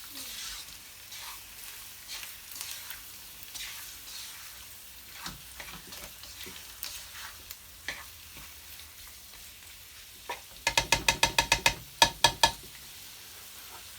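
Ginger, spring onion and garlic sizzle softly in a pan as they are stirred, giving a low, steady frying hiss. Near the end comes a quick run of sharp taps.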